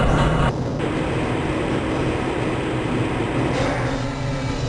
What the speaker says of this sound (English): This train is inbound from the Area 8 topside dormitories to the Central Transit Hub in Area 9.